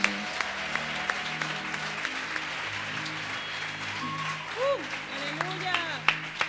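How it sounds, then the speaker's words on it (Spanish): A church congregation applauds steadily throughout, with sustained clapping under talk or low musical tones. "Un fuerte aplauso a nuestro Señor."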